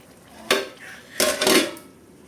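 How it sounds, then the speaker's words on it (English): A utensil stirs meat and mushroom soup with red oil in a pot, giving two close scraping, clattering bursts, a short one and then a longer one. No one speaks. "First of all, I turn the mushroom with the meat together."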